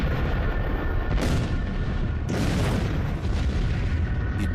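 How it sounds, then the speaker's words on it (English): Violent fireball explosion high above the Siberian Tunguska forest, heard as a loud, continuous roaring blast with deep rumbling and repeated booming surges that fill the whole stretch without pause. "the fireball entered our atmosphere and violently exploded above Siberia's Tunguska forest."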